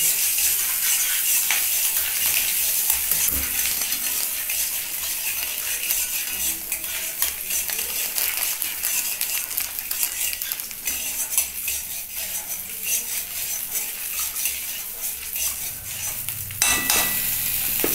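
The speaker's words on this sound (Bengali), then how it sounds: "এই যে টমেটোটা আমি এর মধ্যে রেখে দিলাম। এটা তেলটাকে ভালো করে গরম করে নিতে হবে।" Tomato frying in hot oil in a pan while cooking cabbage dhoka, a soft continuous sizzle with occasional spoon scrapes and utensil clinks, fairly quiet and without talk.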